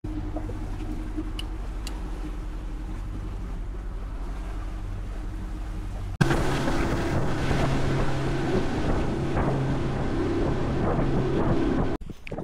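Tekong Roy's fishing motorboat runs at night off Sedeli, a steady low engine drone with wind buffeting the microphone, growing louder and rougher midway as the boat speeds up, no voices.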